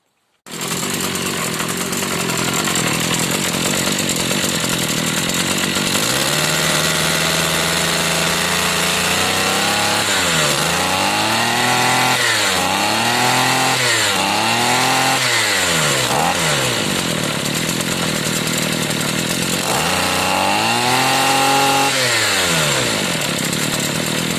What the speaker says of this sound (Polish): Jak widać silnik pracuje poprawnie.